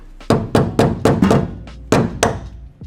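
A fuel pump on a turbo LS-swapped Foxbody Mustang tapped loose with a hammer: seven or eight heavy, evenly spaced thunks close by, no talk.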